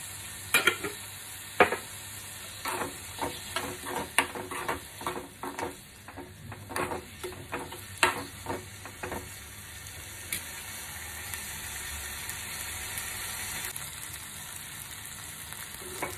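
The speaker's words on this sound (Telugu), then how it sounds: "ఇలా వేయించుకోవాలండి. టమాటా కూడా మనకు మగ్గిపోయింది." Tomatoes with salt fry in a pan, with a faint continuous sizzle and clusters of spatula scrapes and clinks that thin out into a steady hiss toward the end.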